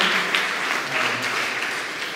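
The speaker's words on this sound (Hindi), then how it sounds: "हम उनके लिए जो है ताली बजाना चाहते हैं" Congregation applauding at a Sunday evening Hindi church service, steady dense clapping throughout with no talk over it.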